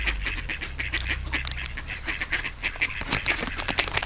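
Ducks quack busily at close range while being fed outdoors in Rapla, with dense overlapping calls running throughout and a steady low background rumble.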